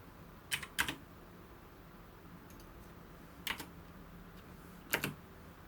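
Keys pressed on a computer keyboard in a few quiet clusters: a double tap, a short pause, then single and paired clicks, close and crisp over a faint room hiss with no talking.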